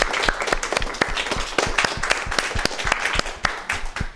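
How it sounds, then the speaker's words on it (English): A seminar audience breaks into a round of applause and clapping, a dense, steady patter of many hands close by that carries on evenly throughout, with no one talking. "Big round of applause. Again, we're clapping for everyone."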